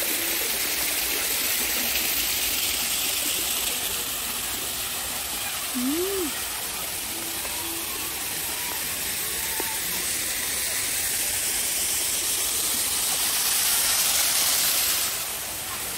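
A small garden waterfall at Herb Island in Pocheon, South Korea, gives a steady, even rush of falling water that fills the whole stretch, with a brief bird chirp early on and no talk.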